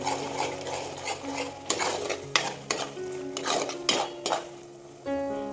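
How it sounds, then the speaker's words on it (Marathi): Turmeric, coriander powder and egg curry masala being stirred together in a pan, a series of metallic spoon clanks and scrapes against the pan over a soft sizzle, with a background tonal hum, no speech. "आता हे मसाले आपण छान एकत्र करून घेऊया"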